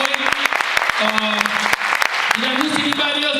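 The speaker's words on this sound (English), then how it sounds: "Give a round of applause to her" A room of people claps steadily for a school board president at an East Cleveland Democratic Club meeting, a brisk patter of close hand claps with voices talking over it.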